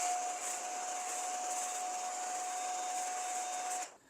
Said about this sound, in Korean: 드라이기를 가지고 와서 열 처리를 5분에서 7분 동안 진행해 주시면